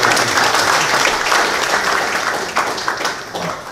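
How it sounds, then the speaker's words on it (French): A crowd at a dinner-debate claps steadily in sustained applause, dense and continuous, tapering off slightly toward the end. "je souhaiterais qu'on applaudisse pour ces personnes qui ont travaillé"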